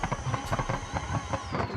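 A race car engine in BeamNG runs with a rough, pulsing low rumble and a steady high whine, fairly quiet and continuous.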